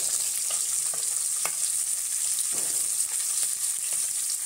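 Pieces of hilsa fish frying in a pan of oil, a continuous close sizzle broken by occasional sharper crackles and stirring scrapes.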